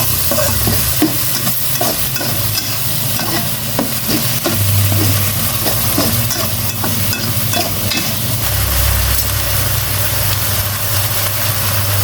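Pork and thob mushrooms stir-fried in a hot pan, giving a steady loud sizzle with repeated scraping and tossing of the spatula throughout, and no talking.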